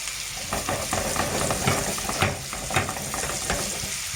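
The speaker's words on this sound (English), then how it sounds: "You can see the juice now, and the butter is melted slowly." Beef steak fries in melting butter with rosemary in a pan. The sizzle is continuous and crackling, with stirring or basting knocks through it, close and moderately loud, with no voices.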